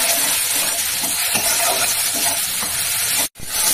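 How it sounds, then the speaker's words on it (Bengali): A soybean and matar dal mixture with turmeric and Kashmiri chilli sizzles loudly in a pan while it is stirred, a dense frying hiss with soft scraping that cuts out briefly near the end, with no talking. "নাড়তে থাকবো।"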